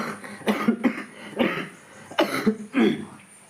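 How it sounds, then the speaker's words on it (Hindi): Several harsh, chesty coughs from someone with a high fever, in bursts, close and loud, with short pauses between fits. "अभी मेरा इतना खांसी डेंजर है"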